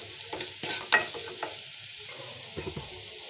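Masala Maggi noodles being stirred in a hot pan, with a soft frying sizzle beneath irregular scraping strokes of the spoon, close and moderately quiet.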